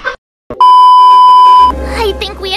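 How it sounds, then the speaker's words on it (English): Enemy attack alarm in the Honkai Star Rail video game: one sustained electronic beep tone rings clearly for about a second, then a voice starts talking over a low rumble. "That's the enemy attack alarm."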